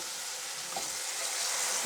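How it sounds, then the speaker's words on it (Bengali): Chicken pieces sizzling in mustard oil in a wok, a steady, loud hiss of frying that holds evenly throughout with no one speaking. "আমি কড়াইয়ের মধ্যে পরিমাণ মতো সরিষার তেল দিয়েছি এখন আমি মুরগিগুলো দিয়ে দিব"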